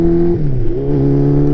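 Vintage Yamaha motorcycle fitted with a Supertrapp exhaust, engine idling steadily up close with a brief dip and change in pitch as the throttle shifts.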